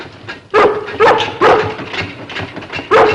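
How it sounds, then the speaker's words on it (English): A Collie barks loudly and close, five sharp barks in a loose rhythm with a slight whining edge between them, near a malfunctioning refrigerator. "Stop that barking, girl."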